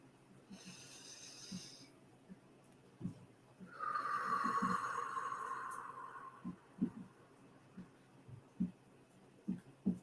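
A long, slow breath drawn in and let out for labor breathing practice, a soft hiss swelling and fading, with quieter breaths and small clicks around it.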